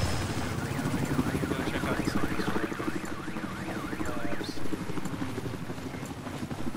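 An attack helicopter flies in a Battlefield 4 conquest match on a dam map, its rotor thudding as a pulsing drone amid wind and other battlefield noise, fairly faint and continuous.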